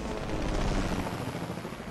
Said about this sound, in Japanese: 上からヘリコプターが来ております。